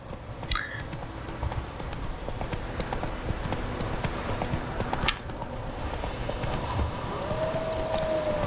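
Rapid hoofbeats of a panicked horse galloping in The Witcher 3 clatter steadily, with a brief whinny near the start and a faint whistle-like tone later.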